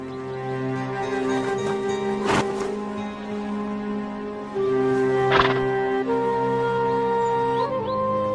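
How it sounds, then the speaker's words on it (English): Yakut horses whinny and neigh in repeated rising calls, with sharp hoof knocks in between, close by against a quiet outdoor background in Siberia. "Yakut horses face it head-on."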